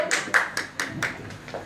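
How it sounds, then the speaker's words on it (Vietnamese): Close, distinct hand claps welcome a guest to a club gathering, a handful of separate sharp claps in an uneven rhythm rather than a full crowd ovation. "Xin một tràng pháo tay thật nồng nhiệt để chào đón chị Lê Vy đến với câu lạc bộ"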